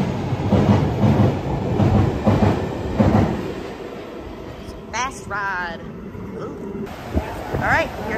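London Underground Central line train to Epping rolling into a station, loud rumbling wheels and rail clatter, then squealing brakes with high whining tones as it slows, with a voice speaking over it.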